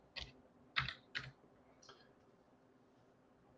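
Keyboard typing while logged into a cloud management portal: three or four sharp key clicks in a short burst near the start, then a faint tap, with quiet room tone filling the rest.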